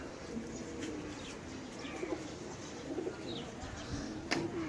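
Low, soft cooing from a flock of pigeons flying high under a cloudy sky, faint and somewhat distant, over a steady outdoor background hum.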